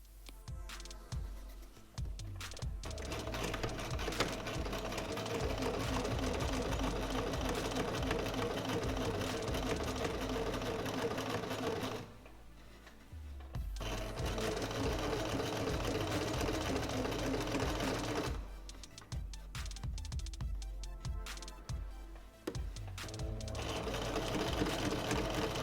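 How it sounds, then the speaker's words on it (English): A sewing machine runs in long, steady bursts as it stitches bias tape to fabric, its fast whirring clatter loud and close, stopping briefly twice before starting up again. "we'll get patches where the machine hasn't stitched the bias tape to the fabric."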